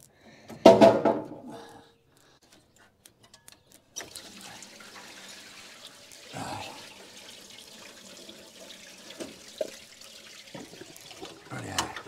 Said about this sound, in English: I'm going to drop the bottom radiator hose.